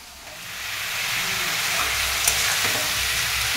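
Potatoes frying in hot oil with cardamom, cinnamon, salt and turmeric, giving a continuous bright sizzle that swells slightly and holds steady, with faint stirring knocks beneath.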